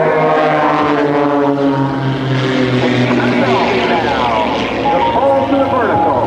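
A propeller aerobatic airplane flies a hammerhead maneuver at an Air National Guard open house airshow in Rhode Island. Its engine drones loudly and continuously, with the pitch sliding as it climbs and turns, while an announcer's voice carries over it.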